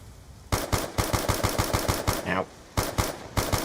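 Rapid gunfire in the Black Ops 2 Origins zombies mode, bursts of sharp repeated shots in quick rhythmic volleys with short pauses between them, loud and close.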